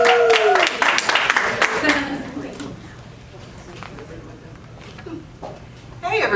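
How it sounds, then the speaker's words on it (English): Conference audience at a WEL event in Chicago applauds in a burst of clapping that thins out within a couple of seconds, mixed with a speaker's voice and room chatter. "Let's have a big hand of applause"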